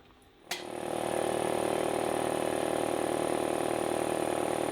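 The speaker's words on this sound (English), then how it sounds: "with the air compressor running" An air compressor kicks on and runs steadily off a portable power station, a loud continuous motor drone with a high whine, starting abruptly after a brief quiet moment.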